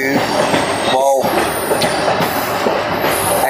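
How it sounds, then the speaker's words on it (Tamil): Kollam to Chennai Egmore Express train passing close by with a loud, steady rumble of wheels and carriages, brief squeals and clatter throughout. "அந்த ட்ரெயின் இப்படி போகிறது, வாவ்."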